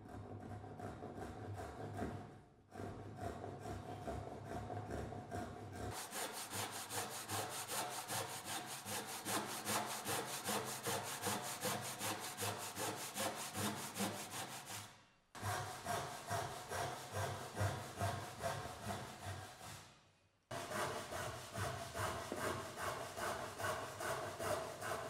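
A hand saw cuts a wooden tenon down to the rebate line for a mitred mortise and tenon joint, making steady rhythmic rasping strokes in long runs, with brief pauses between cuts.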